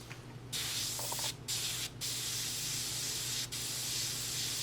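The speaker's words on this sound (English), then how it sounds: "I'm adjusting the needle stop back here. That's one of the reasons I like this airbrush." An airbrush sprays paint on a quarter-scale Deadpool figure, with the needle stop adjusted and the air pressure turned down. It gives a close, steady hiss in a few bursts separated by brief pauses, and no one speaks.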